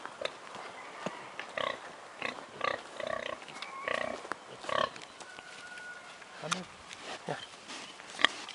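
Pigs on a farm grunt and squeal in short bursts while a person calls to them nearby, with a faint high tone running briefly through the middle.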